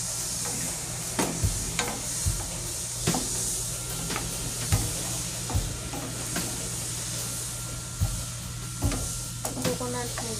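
A pan of simmering Bengali fish curry takes in coconut milk, giving a steady sizzle and hiss with occasional stirring knocks, moderately close, while the cook talks at times.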